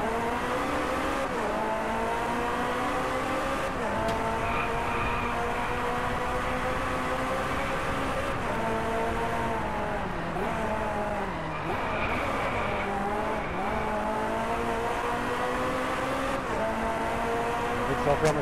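Ferrari race car engines scream through gear changes in the Driveclub racing video game, with steady high-revving harmonics and brief shifts, running throughout under continuous loud play.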